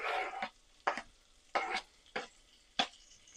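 Chopped onion being stirred in a frying pan while it cooks until soft; about six short scraping stir strokes over a soft sizzle, close and fairly quiet, with no talking.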